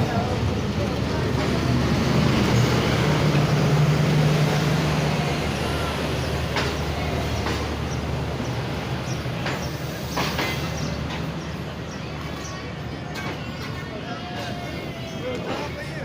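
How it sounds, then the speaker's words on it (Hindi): The 18 Down Millat Express passenger train rolls into Hyderabad Junction station with a steady, loud rumble and rattle of wagons, fading slightly as it slows, with voices talking over it. "तो आइए 18 डाउन मिल्लत एक्सप्रेस का अराइवल देखते हैं"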